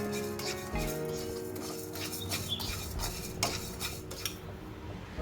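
Rice, urad dal and fenugreek seeds being dry roasted in a pan, with light clinking and scraping of a spoon against metal in irregular stirring strokes, fairly quiet and close.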